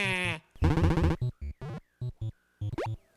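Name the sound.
sheep bleating sound effects from a video game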